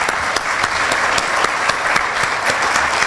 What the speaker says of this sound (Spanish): Un aplauso nuevamente para vos.